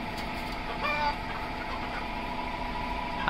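Chickens of show and high-laying breeds kept in a coop give soft, continuous clucking and brief calls over a steady background hum, moderately close.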